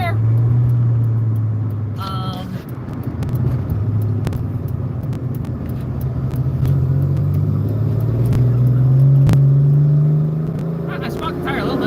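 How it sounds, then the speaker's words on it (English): Ford Thunderbird accelerating hard off a highway exit with a tire briefly spinning, a loud steady engine drone and low rumble that swells and holds across the whole stretch, alone without talk. "I smoked the tire a little bit."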